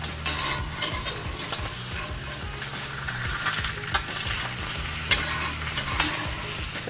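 Egg whites fry in a cast iron pan with a steady, close sizzle, broken by occasional sharper spatula scrapes and taps against the iron.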